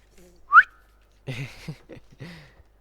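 A single short, rising whistle from the video game The Last of Us Part I, clear and close, followed by a few seconds of talking.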